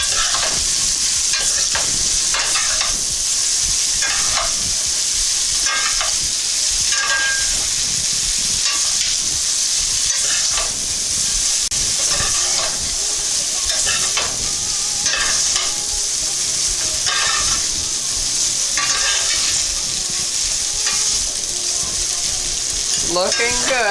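Garlic herb spaghetti sautéing in a pan, tossed with two spoons: a loud, constant hissing sizzle with frequent scraping stirs and clinks throughout.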